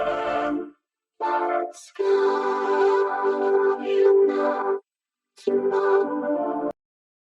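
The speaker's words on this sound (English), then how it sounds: "together, both vocoders with the vocal" A vocal phrase processed through two layered vocoders, forming a song intro with no other instruments; synthetic harmonic tones come in several separated bursts with short gaps of silence, moderately loud with a touch of echo.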